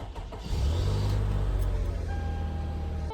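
A car engine in the video game Homeless Simulator cranks and catches, then settles into a loud, steady idle that rumbles on to the end with no talk.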